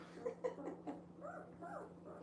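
A young female puppy's soft whimpers and small crying yelps, close and quiet, a few short cries followed by drawn-out whiny whines.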